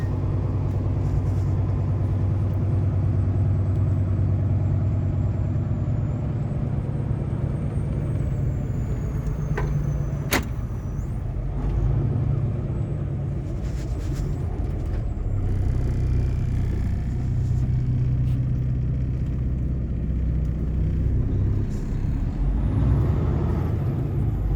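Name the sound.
big truck driving through neighborhood, air brakes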